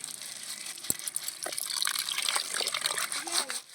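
Raw turmeric roots being scrubbed and washed in water with a sack, giving close sloshing, splashing and trickling water with a few knocks and rubbing sounds.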